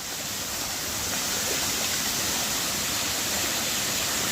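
Padgha waterfall in Palghar, swollen by the monsoon, pours in a steady loud roar of rushing water that holds even and unbroken throughout, with no voices.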